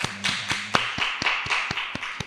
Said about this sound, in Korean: 하나님께 영광의 박수를 올려드리겠습니다